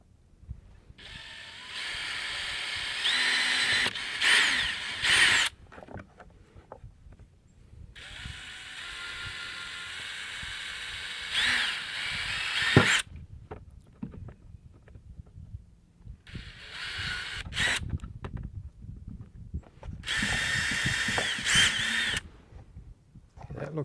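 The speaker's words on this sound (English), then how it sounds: "Let me drill the upper holes first." A power drill runs in several bursts, whirring loudly for a few seconds each with quiet pauses and faint clicks between them.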